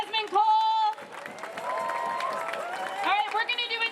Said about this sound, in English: Big round of applause for Desmond Cole.